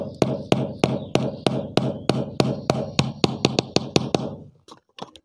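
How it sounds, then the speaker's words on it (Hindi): Nail hammered into a dead Honda CD70 motorcycle battery: about twenty quick, evenly spaced metallic blows, loud and close, slowing to a few scattered taps at the end. "तो अब हमने इसके अंदर इसको ठोक देना है"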